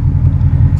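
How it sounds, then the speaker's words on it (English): A 2015 Ford Mustang GT Premium V8 idles with a deep, steady, throbbing rumble, close and loud, alone for under a second. "I've been letting this car idle and I've been revving the crap out of it the last couple of just to let people hear it"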